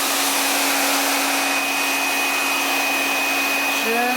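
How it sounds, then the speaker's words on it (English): Hairdryer on its cold setting blowing onto freshly dyed leather, a steady close whooshing hum with a constant motor whine, running unbroken throughout. "I just use a hairdryer"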